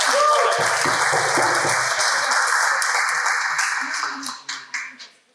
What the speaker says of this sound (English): they need a round of applause to actually walk up